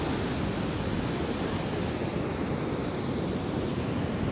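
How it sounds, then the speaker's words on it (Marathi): Strong sea waves crash continuously onto the shore at Shrivardhan–Harihareshwar on the Konkan coast, a loud, dense, unbroken roar of surf with wind noise throughout and no speech. "लाटा बघा कसं गाईज येतात लय डेंजर येतं लय जोरात येतात लाटा"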